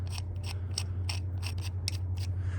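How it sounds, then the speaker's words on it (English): A bolt on a clamp for a Gator SR1 Pro roll-up tonneau cover is loosened with a ratcheting tool, giving a steady series of about nine crisp, close clicks over a constant low electrical hum. "All you have to do is loosen up the bolt."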